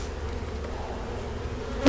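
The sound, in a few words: honey bees buzzing around an opened hive box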